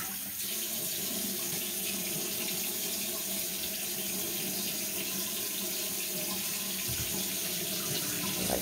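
Tap water running steadily into a sink while hands are rinsed, a continuous close splashing rush without a break.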